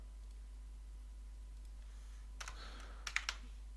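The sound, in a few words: computer keyboard keys pressed for Photoshop shortcuts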